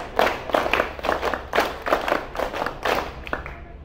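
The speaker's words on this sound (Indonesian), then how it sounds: "3 kali tepuk 5" A group at an outbound team activity claps in rhythm, quick sets of five sharp claps repeated three times, close and clear with short pauses between sets.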